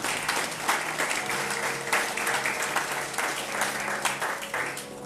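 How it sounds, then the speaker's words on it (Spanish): Sustained applause from a church congregation honoring Christ, a thick, fairly loud rush of many hands clapping with slight swells, continuing throughout without speech. "Dijimos que también damos ese aplauso a Cristo."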